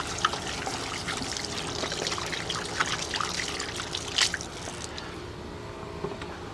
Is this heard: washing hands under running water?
yes